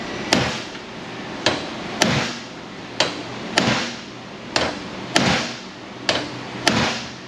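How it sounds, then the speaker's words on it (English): A hammer strikes metal parts on an Infinity FX35 3.5 VVT undergoing exhaust and engine repair. There are eight sharp, loud impacts at a steady rhythm, each ringing briefly, with no talking. "Let me hold the hammer."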